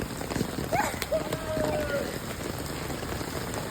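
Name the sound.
rain falling on a street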